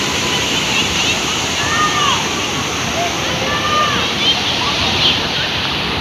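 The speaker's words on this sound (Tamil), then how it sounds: "குற்றாலத்தில் ஊற்றும்ல அது மாதிரி தண்ணி பாருங்கள் இப்படி வருது பாருங்கள்" Water rushes and splashes loudly and steadily at Kallanai, like a waterfall, as a continuous broadband roar. People's voices can be heard faintly through it.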